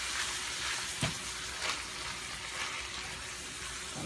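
Sauce poured into a pan of Italian sausage over medium-low heat, giving a steady, close hissing sizzle with a few soft bubbling pops and no talk.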